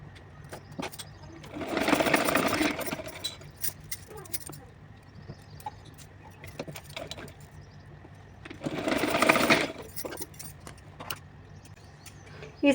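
A sewing machine stitches down a twice-folded fabric edge on a small summer outfit for a Laddu Gopal idol, in two short runs of steady whirring at close range with quiet gaps between them.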